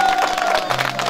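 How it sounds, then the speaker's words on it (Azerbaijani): Applause from a crowd gathered in Lankaran to welcome Shamkhal, an army officer returning home, who is also being congratulated on a newborn child. The clapping is brief, dense and fairly loud, with a steady tone held beneath it. "O münasibətlə bir alqışlayaq Şamxalı."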